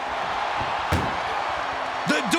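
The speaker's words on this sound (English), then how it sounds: "The door is closed." An ambulance door slams shut in the WWE 2K25 video game, a single sharp bang heard briefly over a constant crowd roar, with a voice coming in near the end.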